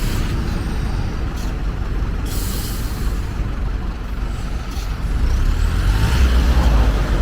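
A MAN exam truck rumbles as it moves off, its heavy engine droning low and building slightly louder toward the end, with a brief hiss of air partway through.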